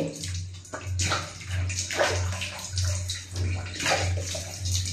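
Water runs and splashes steadily during washing, a close continuous rush with gurgling surges and a faint rhythmic thump beneath it.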